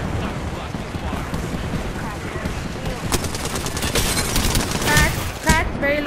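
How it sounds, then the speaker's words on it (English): Fuse's knuckle cluster from Apex Legends fires amid a dense barrage of crackling gunfire and bursting explosions, loud and continuous in a chaotic firefight, with voices talking over it. "Knuckle cluster's firing."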